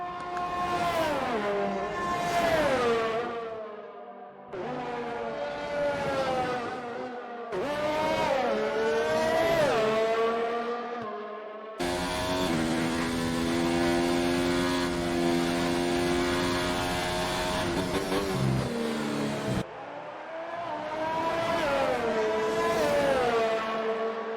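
Race cars in an Xbox racing game fight wheel to wheel for position, their engines revving loudly and continuously with rising and falling pitch as they accelerate and shift, a denser, louder roar building in the middle stretch.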